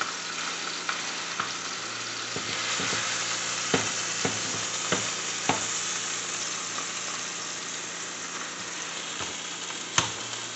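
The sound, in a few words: beef roast with garlic slivers searing in a pan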